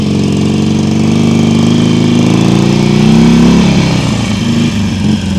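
A motorcycle engine runs loud and close with the throttle held too high, a sustained high idle that shifts and dips near the end during a riding lesson.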